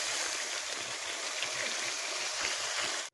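Water poured into a cooking pot while preparing a Filipino noodle dish: a steady, loud, full rushing splash that runs unbroken for about three seconds and then stops abruptly, with no talking.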